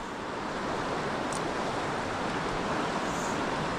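Water churns over a shallow riffle on the lower Santa Ana River in the San Bernardino Mountains, a steady, close, broadband rush that continues without a break and with no voices.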